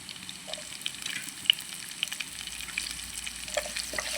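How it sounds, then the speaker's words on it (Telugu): More onions frying in a pan while making tomato dal, a soft, fairly faint sizzle with light crackles and a few small clicks, no one speaking. "ఇంకొన్ని ఆనియన్స్ ఉన్నాయి కదా అవి వేస్తున్నాను"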